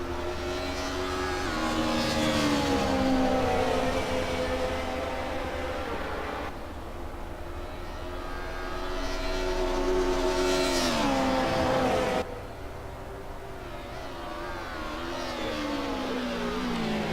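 An Alfa Romeo race car at Imola in Assetto Corsa roars steadily as its engine pitch sweeps up and down through shifts and braking, with an abrupt drop in revs partway through.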